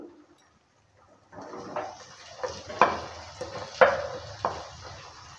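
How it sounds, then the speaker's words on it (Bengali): Fried potatoes and figs being stirred in a pan with spices for a Bengali fig curry, giving a soft steady sizzle broken by several sharper scraping strokes of the spoon, close up and with no talk. "আলু ডুমুরটা দেওয়ার পর ভালো করে আবারও নেড়েচেড়ে নিচ্ছে"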